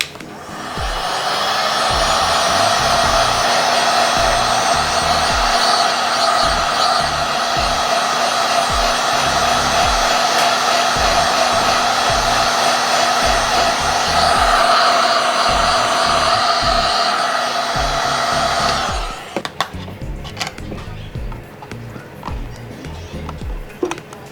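A hot air blower roars steadily at close range while loosening the screen adhesive on an iPad Air 3, a loud continuous whine-hiss for about nineteen seconds before it cuts off, leaving quieter handling noise.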